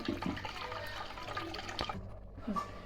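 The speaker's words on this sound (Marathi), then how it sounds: "पाणी गाळून घ्यायचं चांगलं, 2-3 वेळेस गाळून घ्या" Water trickles and splashes steadily as it is poured through a strainer, draining water from cooking crab, with a few faint clinks and no talking.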